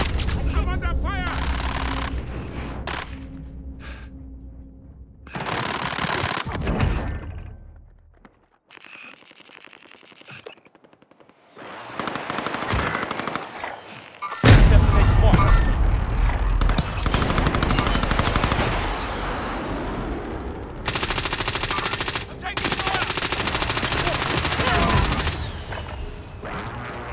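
Heavy gunfire in Call of Duty: Modern Warfare, loud automatic bursts and single shots crackling in dense clusters, pausing briefly before a sustained barrage of rapid fire, with voices calling out in the mix.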